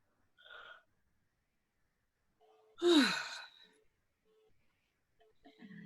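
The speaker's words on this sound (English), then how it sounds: "Give me one more yawn." A single yawn, loud and breathy with a falling voiced groan, sounding close and standing mostly alone in a quiet space.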